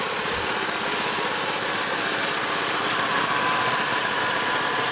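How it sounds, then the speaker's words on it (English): A Holden VS Ute engine idles steadily at close range, running on eight-year-old fuel with an exhaust leak, a dense continuous hum and rattle with no clear separate pops standing out. "Yeah, might have an exhaust leak. You hear like a pop sound."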